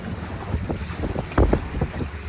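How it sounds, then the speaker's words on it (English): Strong gusting wind buffets a Holder17 sailboat out on Lake Lavon, Texas, with uneven bursts of rushing air and water noise close to the microphone and a louder gust hitting mid-way. "I knew it was going to be windy"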